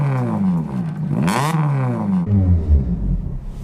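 A Mugen Civic Type R fitted with a decat downpipe revs up sharply and falls back, then settles into a deep, rumbling idle, loud and close, with no voices.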